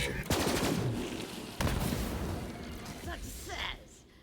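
Video game gunfire from Borderlands 3 (Bounty of Blood DLC): two loud, close bursts of shots with a decaying rumble after each, and a voice speaking over the action.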